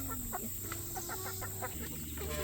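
A rooster on a Southern homestead clucks in a series of short, rhythmic, moderately faint calls over a steady background hum, with no talk.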